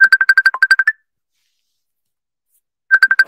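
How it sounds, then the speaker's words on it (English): A phone ringtone plays loud and close as a rapid series of bright electronic beeps, then falls silent for about two seconds before the same beeping pattern starts again. "The phone is ringing."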